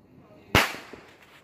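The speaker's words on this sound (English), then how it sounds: "all them explosions, that's cannon fire" A single sharp firework or cannon-like blast at a 4th of July celebration, one loud crack followed by a fading decay, heard alone with faint background noise.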